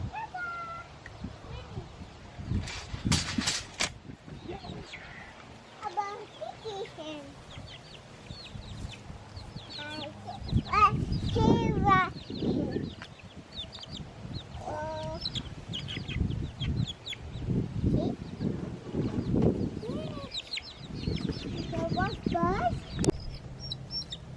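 Chickens cluck and squawk close by amid scattered animal calls, with people talking intermittently over the barnyard noise.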